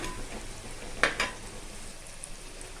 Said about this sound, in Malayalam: ചെറിയ ഉള്ളി അത് കുറച്ച് വരട്ടണം